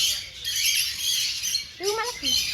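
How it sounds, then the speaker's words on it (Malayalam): Many birds squawk and chirp busily close by inside an aviary shed, and a voice briefly speaks among them. "ഇവിടെ ഇഷ്ടം പോലെ കിളികളുണ്ട്"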